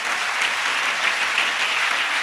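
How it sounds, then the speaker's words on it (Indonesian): Audience applause at a humorous Islamic religious gathering, a dense, continuous clapping crowd, loud and steady throughout the short stretch. "tepuk tangan untuk beliau"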